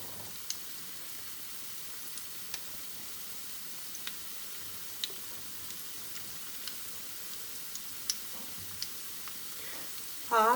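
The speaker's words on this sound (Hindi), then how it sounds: "एक एक करके ये सारे पीसेस जो हैं बैटर में डिप कर डालते जाएंगे" Pieces of bread dipped in batter fry in hot oil with a soft, steady sizzle, faint crackling pops scattered through it and a brief louder burst near the end.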